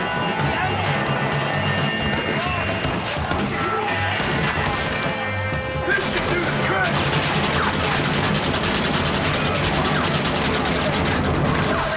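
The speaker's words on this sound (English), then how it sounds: "You can use the Gatling gun." A Gatling gun firing in Red Dead Redemption, a dense, continuous rattle of rapid shots under a busy game soundscape, with a voice talking over it.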